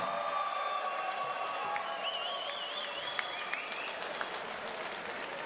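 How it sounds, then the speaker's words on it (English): Arena crowd applauding two boxers after their bout, a steady wash of clapping with some cheering and whistles, moderately distant and fairly quiet throughout. "I think both of these warriors deserve a huge round of applause."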